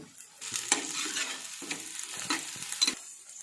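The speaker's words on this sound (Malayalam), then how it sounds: "നന്നായിട്ടൊന്ന് വഴറ്റിയെടുക്കണം" Vegetables sauté in a hot pan for a coconut-milk fish curry, a steady soft sizzle broken by repeated stirring scrapes at an irregular rhythm, close and moderately loud.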